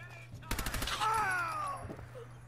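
A rapid burst of gunfire in Fallout 4, with about seven quick loud shots close together followed by a ringing metallic tail, over a steady low background hum.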